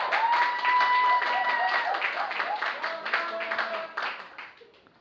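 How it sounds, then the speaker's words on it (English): An audience at a debate gives a round of applause, a dense patter of clapping mixed with voices that gradually fades toward the end. "I think they deserve a round of applause, audience."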